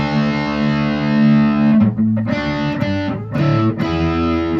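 Distorted electric guitar playing chords through effects, a sustained ringing chord that shifts into choppy palm-muted strums with brief dark gaps, loud and close, no voices, from a guitar lesson.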